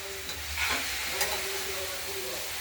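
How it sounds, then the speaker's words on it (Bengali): Cabbage curry with peas, potato and tomato, stirred in a pan just after the lid comes off, giving a low steady sizzle with soft scraping strokes of the spoon, close by and fairly quiet, with no talk. "আমরা ঢাকনাটা খুলে আরেকবার নেড়ে ছেড়ে দিলাম"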